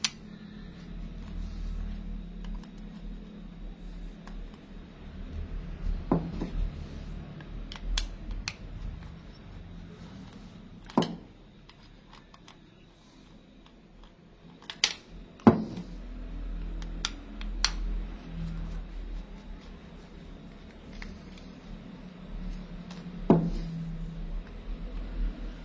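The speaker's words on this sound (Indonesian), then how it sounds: "4 bautnya sudah kita buka" Bolts being unscrewed from the rear body cover of a Daiwa Saltiga BJ spinning reel, heard as sparse small metallic clicks and scrapes spread over a quiet background, close up with no talking.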